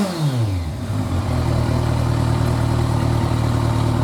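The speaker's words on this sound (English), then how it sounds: "So let me give it a little throttle here." A Kawasaki Ninja 1000 ABS with a modified stock exhaust revs up close by, the engine note rising and then holding at a steady, loud drone.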